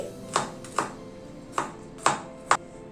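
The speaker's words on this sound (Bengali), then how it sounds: "রসুনটাও কুচি করে নিচ্ছি" Knife mincing garlic on a cutting board for a chicken dish, five sharp separate chops spaced about half a second apart, close and clear over faint room noise.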